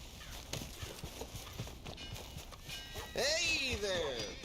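Horse hooves clip-clop in Red Dead Redemption 2, a quiet steady run of hoofbeats at walking pace, joined near the end by a louder horse whinny or snort, with a person's voice also present.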